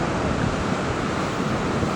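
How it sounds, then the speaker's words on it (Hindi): Mountain waterfalls along a riverside road roar in a steady, dense, continuous rush, loud and close, with no pauses or voices. "मैं इतने सारे झरने हैं यहाँ पे"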